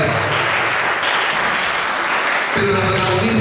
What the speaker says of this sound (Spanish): Un aplauso para la princesa